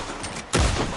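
Gunfire in the Red Dead Redemption 2 video game, a sudden loud burst of shots landing about halfway through and booming on to the end, following a quieter stretch.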